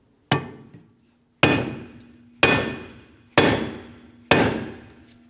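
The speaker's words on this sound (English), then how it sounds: "use a hammer to go ahead and hit the back side of the rotor" Five sharp metallic hammer strikes on the back of a stuck rear brake rotor of a 2004-2008 Acura TL, at a slow, steady pace, each ringing briefly before fading, loud and close.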